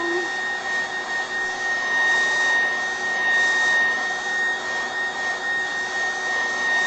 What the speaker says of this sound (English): So again, I'm just using my dryer